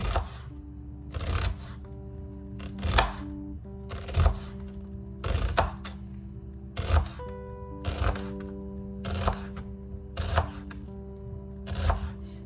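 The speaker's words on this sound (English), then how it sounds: "just thinly slice the onion" A knife thinly slicing an onion on a cutting board, about a dozen evenly spaced crisp chops, close and clear over faint background hum.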